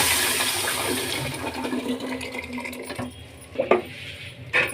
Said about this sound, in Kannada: ಈಗ ರುಬ್ಕೊಂಡಿರೋ ಮೊಸಪ್ಪನ್ನ ಸೇರಿಸ್ಕೊಳ್ಳೋಣ